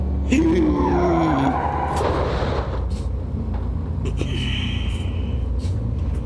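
Car skidding in BeamNG.drive, a front-wheel-drive car sliding on a straight road: a loud tire squeal rides over a steady engine rumble, with a voice talking over it.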